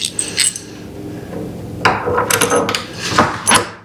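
A metal bolt and washer being fitted into a fiberglass ladder: a series of close, loud clinks, taps and scraping knocks at irregular intervals, with no talk.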